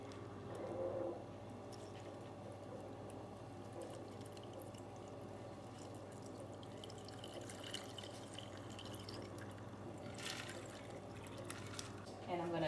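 Blueberry margarita pours from a shaker into a glass with ice, a steady close trickle of liquid over cubes lasting several seconds, ending with a few clinks.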